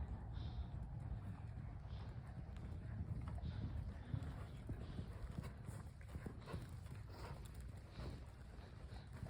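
A horse cantering in a riding arena, a regular three-beat thud of hooves in the distance under wind noise on the microphone, with a low steady rumble.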